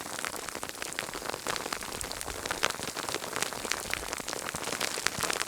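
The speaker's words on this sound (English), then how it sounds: "it's a hailstorm here." Hailstorm in the Irish hills at Knocknagorraveela, ice pellets pattering steadily and densely on surfaces nearby, a continuous crackling hiss with frequent sharper ticks throughout and no speech.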